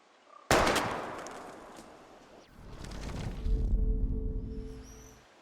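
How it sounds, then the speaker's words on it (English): A single sharp gunshot rings out in the Life is Strange video game during bottle shooting, followed by a lower rumbling echo and a faint tonal chime as it fades. "We're gonna shoot all these bottles without wasting a single bullet"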